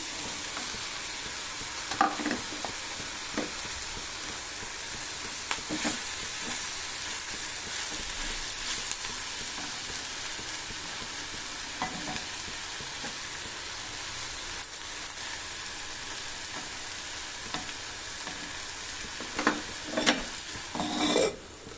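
Onions fry with drumstick leaves in a pan, giving a continuous soft sizzle and crackle, with occasional spoon stirs and scrapes breaking through at a moderate distance.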